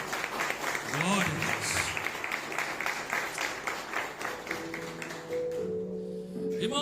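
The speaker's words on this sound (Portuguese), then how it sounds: "Vamos aplaudir a palavra do Senhor." A church congregation breaks into applause, a dense wash of clapping that fades out toward the end while a voice speaks over it.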